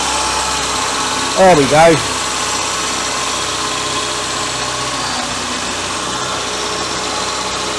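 A Citroen BX engine idles steadily on fuel left in the carburettor, a continuous close mechanical hum with a brief spoken remark over it near the start.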